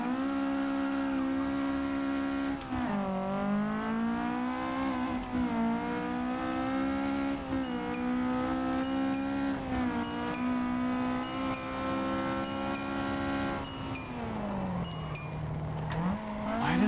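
A video game car engine screams near its redline, holding high revs with repeated quick drops and climbs as gears shift, loud and tonal throughout with a few faint clicks.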